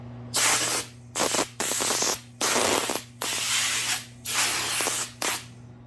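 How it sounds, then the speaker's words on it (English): Compressed air blasts sawdust out of a custom wooden frame in a woodworking shop, in about six loud, hissing bursts of roughly half a second to a second each. A steady low mechanical hum from the compressor runs underneath throughout. "So I like to blow the sawdust out."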